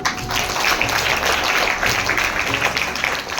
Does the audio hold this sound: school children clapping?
yes